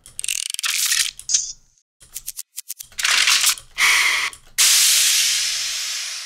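Layered air whooshes and hissing bursts in a product-reveal sound design, with clicky ratcheting ticks between them, ending in a long loud rushing blast of air that slowly fades.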